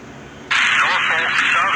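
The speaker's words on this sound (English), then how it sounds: "That's a Norfolk Southern detector" A Norfolk Southern railroad defect detector broadcasts over a radio: after half a second of faint hiss, an automated voice comes in abruptly and carries on through a band-limited, slightly crackly channel.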